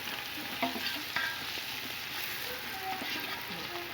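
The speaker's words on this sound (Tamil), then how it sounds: "1 table spoon ginger garlic paste போட்டு வதக்கணும்" Ginger garlic paste and round-cut carrots sauté in a pan for Arabian chicken, giving a continuous soft sizzle with a few clacks of a spoon stirring, fairly quiet and close.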